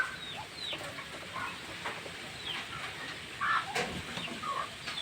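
A large hen clucks in short, uneven bursts while straining to lay an egg, with scattered bird calls around a farmyard; moderately close and steady, no speech.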